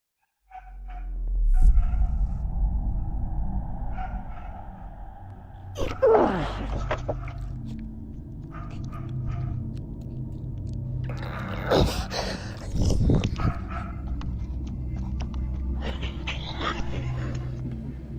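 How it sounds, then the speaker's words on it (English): Wet, guttural grunts and raspy wheezing roars erupt in bursts from somewhere outdoors, separated by stretches of low rumbling background. "A series of guttural, wet-sounding grunts and wheezing roars erupts from the direction of the woods."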